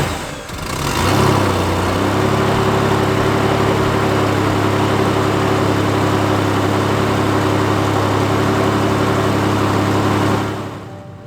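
Car engine started and left idling to test a newly installed radiator after a blowout, a close, loud, steady rumble with an even hum that holds for about ten seconds before cutting off.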